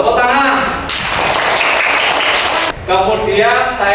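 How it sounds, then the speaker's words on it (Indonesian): Elementary school pupils in a classroom clap their hands in a dense burst lasting about two seconds, with a teacher talking just before and after it. "Tepuk tangan."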